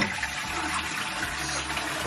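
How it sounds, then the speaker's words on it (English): A dual-flush toilet flushing on the larger flush with a strong rush of water, steady and close, with no talking. "So you tap that, you can hear that. Look at this now. It's more water."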